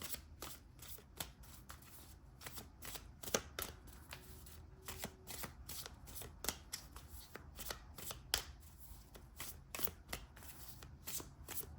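Tarot cards shuffled near and softly, a long run of sharp regular slaps and riffles falling in a fast, steady rhythm with no talking.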